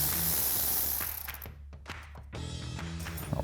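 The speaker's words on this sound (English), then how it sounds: "taking a 10 millimeter socket to remove these two 10 millimeter bolts holding our brake and ABS line brackets in place." A ratchet with a 10 mm socket turning out bolts on a brake and ABS line bracket of a 2007-2016 Silverado 1500, giving a close, steady mechanical clicking that breaks off briefly midway and then resumes.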